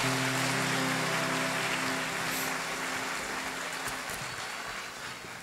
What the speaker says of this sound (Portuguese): Dá uma salva de palmas pro nosso querido Frei Valdo